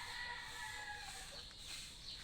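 Chickens cluck and murmur in a backyard chicken coop where hens lay eggs, a steady faint flock chatter with a distant crow mixed into the outdoor ambience.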